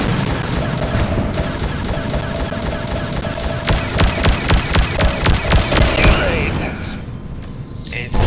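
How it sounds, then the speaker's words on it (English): Spaceship weapons in the DarkStar One video game fire in a fast, regular rhythm of sharp repeated shots with sustained tonal laser hums beneath, loud and close, ending with a booming blast. "this is what the ship looks like when I'm shooting at things"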